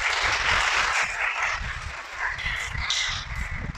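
Congregation applauding during a church service, a sustained wash of clapping from many people with some low rumbling voices and murmur beneath it.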